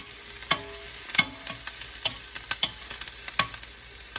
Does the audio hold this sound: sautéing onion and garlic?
yes